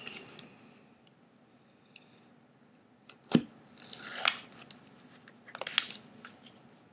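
A Bubblegum 7-Pot pepper pod being cut open gives a sharp close snip followed by a few softer crunchy cuts and squishy rustles against a quiet background.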